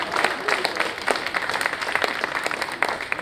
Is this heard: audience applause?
yes